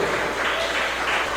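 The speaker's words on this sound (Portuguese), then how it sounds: "Vamos aplaudir bem forte" A church congregation at a Bible study service applauds strongly, with a thick, continuous wash of many hands clapping at a fairly loud, even level.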